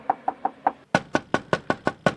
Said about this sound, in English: So we rang doorbells and knocked on doors